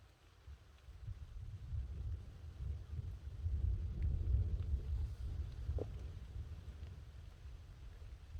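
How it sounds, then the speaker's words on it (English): Low, distant thunder rolls through a rainy forest at a wild camp, a long soft rumble swelling and fading under faint wind noise, no voices. "I can hear thunder"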